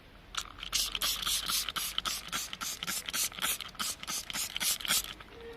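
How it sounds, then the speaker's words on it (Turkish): A spray bottle wets a sun-yellowed car headlight for sanding, pumping in quick, repeated squirts, about twenty hissing bursts in a fast, fairly even rhythm, close by. "Şimdi yüzeyi ıslatalım. Şöyle bir sprey yardımıyla"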